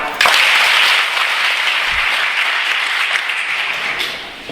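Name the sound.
students clapping on teacher's signal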